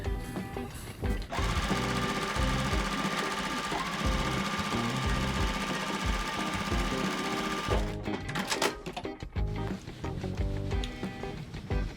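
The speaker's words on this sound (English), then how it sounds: "now that I have my 2 pieces, I'm gonna sew them together," Sewing machine joining two quilt block pieces, running continuously for about eight seconds with a close, loud rhythmic whir and needle knock, then slowing into a few shorter bursts and clicks.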